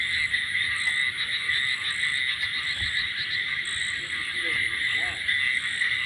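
A chorus of frogs croaks continuously at night beside water, dense and steady throughout, with insects chirring in the background and a brief voice underneath.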